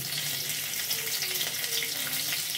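White cumin seeds sizzle in hot oil, a steady, close crackling hiss that runs without a break and with no one talking.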